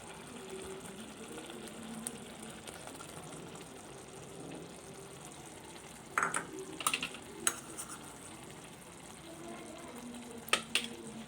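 Paneer gets folded gently into cooked masala in a pan, a soft low sizzle with quiet scraping and a few sharp clinks of a spoon against the pan.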